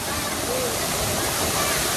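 Kangthi Langso Waterfall in Karbi Anglong pours down from above, a dense, continuous roaring rush that stays loud and steady, with a voice faintly under it.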